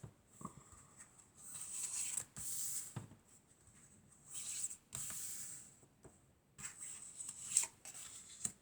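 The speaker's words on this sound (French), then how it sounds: "Alors, on va prendre quelques cartes." Tarot-style cards slide off a deck and are shuffled and laid down for a reading. The sounds are quiet, close papery swishes and flicks that come in short bursts, with pauses between them.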